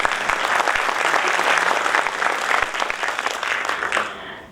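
Steady, dense applause from a seated audience at a Hindi kavi sammelan fills the room for a poet, holding at full strength throughout and easing off only in the last moment.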